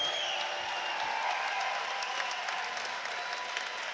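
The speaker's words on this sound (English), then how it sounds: "let's have a big round of applause for both of the fighters in this cage" Crowd applause for two fighters in the cage at a PFC10 mixed martial arts event, a dense, steady wash of clapping that holds at an even level for the whole stretch, with faint tonal hum underneath.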